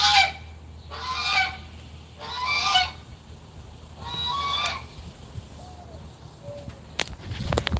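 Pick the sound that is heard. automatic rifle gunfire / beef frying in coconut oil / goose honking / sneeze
goose honking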